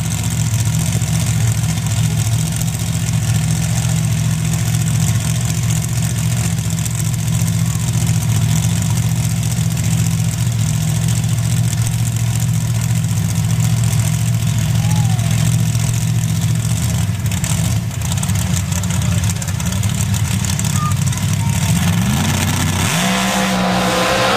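A restarted race car engine, one of the modified cars at a drag racing championship final in Indiana, idles loudly and steadily with a deep rumble, rising briefly near the end, while an announcer talks over it.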